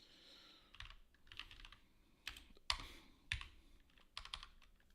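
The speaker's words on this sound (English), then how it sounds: "hitting the wrong keyboard shortcut" Keys clacking on a computer keyboard while switching tools during game development work, heard as scattered bursts of quick taps with short pauses between, fairly quiet and close, with no talking.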